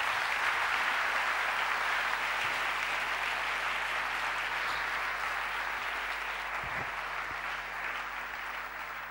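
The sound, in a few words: church congregation applauding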